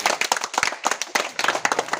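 A group of schoolchildren claps in a quick, uneven burst, with many hands striking in a lively, nearby patter that lasts about two seconds.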